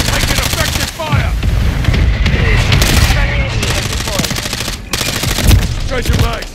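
Video game gunfire in a live-streamed shooter, dense bursts of machine-gun fire and single shots crackling loudly and almost without pause, with brief gaps and excited talk mixed in.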